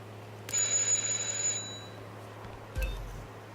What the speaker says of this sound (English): Just ring the doorbell.